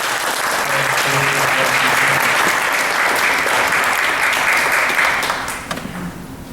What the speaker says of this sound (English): give Dr. O, our Honorable Dr. O here, a round of applause